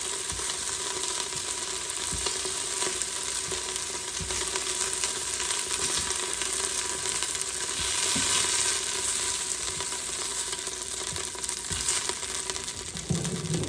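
Beef and bacon frying in a pan, spitting and splattering grease: a loud, continuous crackling sizzle with scattered pops, close up and steady throughout, with no talk over it.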